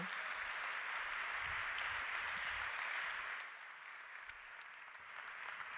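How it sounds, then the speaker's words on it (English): An audience at a hospitality awards ceremony applauds, a dense, even wash of clapping that stays fairly constant, then softens slightly before swelling again. "on applaudit"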